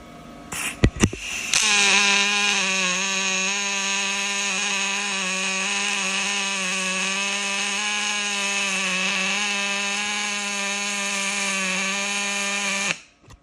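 A Magnum MIG 281 Dual Puls Synergy three-phase MIG welder running at about 140 amps and 25 volts gives a steady, loud pulsing electric buzz that holds unbroken for about eleven seconds, then stops abruptly.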